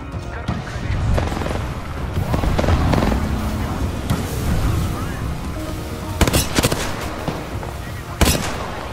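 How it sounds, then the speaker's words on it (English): Gunfire in the Apex Legends video game, with continuous bursts of shots and a few sharp cracks standing out, while players talk over the action throughout. "I'm getting shot."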